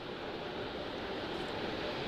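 Sound suppression water rushing beneath the mobile launcher under the Artemis 1 moon rocket on the pad, a steady broadband roar that holds evenly throughout with no pauses.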